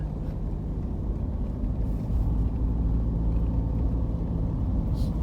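Car traffic passes on a Vientiane street, a steady low engine rumble and road noise close by with no clear voices.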